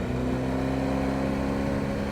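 Steady engine drone from a motorcycle being ridden off road on Motoz Tractionator GPS tires, a continuous loud growl with a low hum and no break across the whole stretch.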